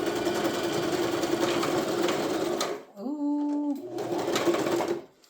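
A sewing machine runs in a rapid, steady burst while stitching fleece onto satin for an upcycled heart purse, stops briefly, then whirs again. A voice speaks softly under it.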